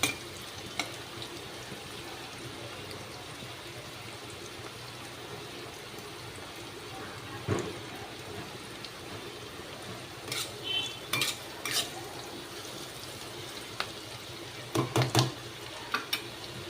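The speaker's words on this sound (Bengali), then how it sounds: "পেঁয়াজটাকে একটু ভাজা করে নেব।" A large onion frying in a pan over low gas heat: a soft, steady sizzle with occasional spatula scrapes and clinks, clustered near the end, close by and fairly quiet.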